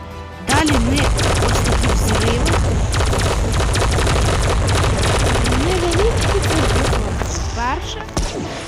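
Rapid bursts of heavy blasting and booming fire from an Iron Man core beam in Minecraft, loud and continuous with sweeping electronic tones, a voice talking underneath.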